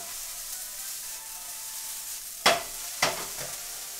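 Food browns in olive oil in a hot pan with a steady, soft sizzle, broken by two sharp scraping clatters of stirring near the end.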